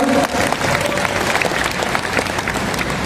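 Audience applause for new company founders at a corporate event, dense and continuous clapping from a large crowd throughout.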